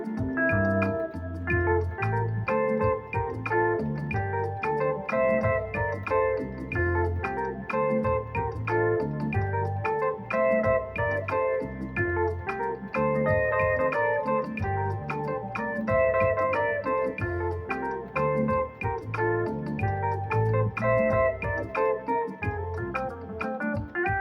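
Highlife intro played on a 1-6-2-5 chord progression, a full, steady band-style groove with bright melodic lines over rhythmic bass, continuous and loud with no talking.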